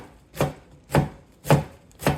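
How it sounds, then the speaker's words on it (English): Four evenly spaced knife strikes chop sukumawiki (kale) on a cutting surface, each a crisp, close thunk at an unhurried, steady rhythm with quiet between them. "trying to chop as small pieces or slices as I can"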